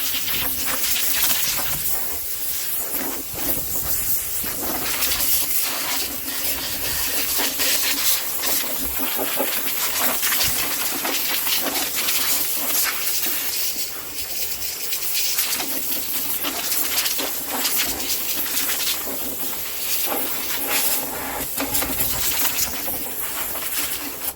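Compressed air blasting out a Wheel Horse cutter deck during servicing, a loud, continuous rushing hiss that persists throughout without pause.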